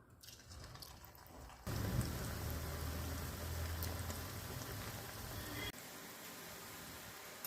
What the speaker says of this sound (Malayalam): ഓയിൽ ചൂടായിട്ടുണ്ട് നമുക്കിനി കുറച്ച് കുറച്ച് ഇതിലേക്ക് ഇട്ട് കൊടുക്കുക